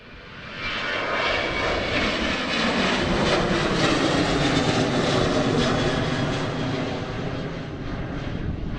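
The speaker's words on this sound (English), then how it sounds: "Early liftoff here for this Ryanair" A Ryanair airliner taking off at Amsterdam airport, its jet engines building into a loud, broad roar that swells and holds, then slowly eases as the aircraft climbs away, heard from a distance with no talking.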